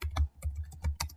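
Fast typing on a computer keyboard, with a handful of short, sharp key clicks and a heavier thump near the middle, up close with no voice.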